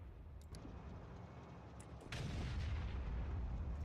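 An artillery wagon firing in the Factorio video game, a deep booming blast that lands partway through and lingers as a heavy rumble over a steady low game background.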